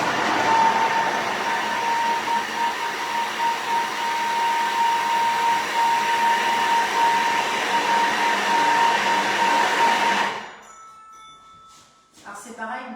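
A Thermomix runs at speed 6 mixing shortcrust pastry dough, giving a steady, loud motor whir with a high whine for about ten seconds before it cuts off into near silence and some faint clatter.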